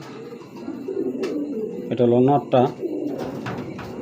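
A pair of dragon racing pigeons on a farm give a few low, throaty coos around the middle, close and fairly loud, while someone talks over them.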